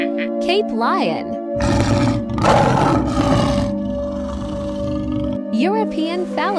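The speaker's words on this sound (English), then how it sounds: "Cape lion." A Cape lion gives a loud, rough roar lasting several seconds, set between tonal background sounds before and after.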